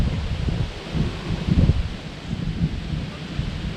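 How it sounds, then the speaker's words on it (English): Wind blows across a lake at a state park and buffets the microphone, a steady low rumbling roar with gusts that swell and ease, no voices. "Now the wind's really blowing it."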